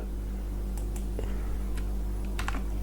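Sparse computer keyboard keystrokes while typing web design code, a few scattered taps over a steady low hum, fairly quiet.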